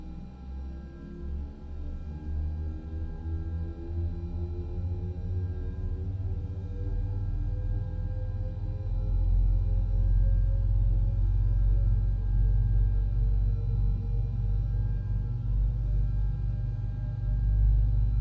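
An Airbus A321 engine starting up in a flight simulator cockpit on a rainy departure: a low whine steadily rising in pitch and loudness, the spool-up swelling into a deeper, fuller rumble partway through and then holding.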